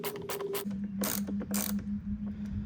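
Screws backed out of a Dewalt battery-powered lawn mower handle, giving rapid ratcheting clicks and mechanical whirring in short close bursts, then a steady grinding turn with repeated clicking.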